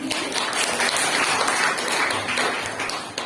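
Students in a school classroom give a round of applause, a thick burst of many hands clapping at once that fills the room for a few seconds, then begins to thin.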